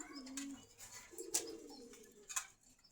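Pigeons coo at a pigeon market in Meradia Bazar, Khilgaon, Dhaka, soft low coos mixed with a few sharp chirps from birds nearby, with no speech.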